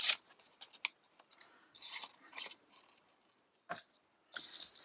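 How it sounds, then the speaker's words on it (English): Scissors cut out paper masks for a one-layer card, giving close, crisp snips in quick clusters with brief pauses and some longer slicing cuts. The sound is fairly quiet, with no talking. "Let's cut these out."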